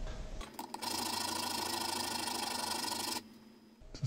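A chisel edge being sharpened, likely on a powered machine: a steady close mechanical whir with a humming tone runs for about three seconds, then cuts off into quiet.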